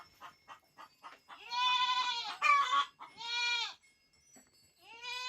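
Several goats bleat close by in a pen, long wavering calls one after another, with soft shuffling and rustling in the quiet gaps between them.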